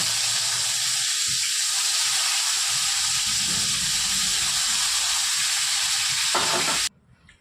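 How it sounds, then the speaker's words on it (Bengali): Eggplant slices fry in oil in a home kitchen for mustard eggplant, a continuous close sizzle with occasional stirring scrapes, cutting off abruptly just before the end. "পরের যে বেগুনগুলো ছিল সেই বেগুনগুলো কিন্তু ঠিক একই রকম একটু লাল করে ভেজে নেব।"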